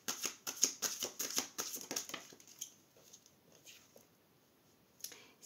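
Playing cards being handled and riffled, a quick series of crisp close flicks and snaps that thins out into a few scattered clicks, with no talking.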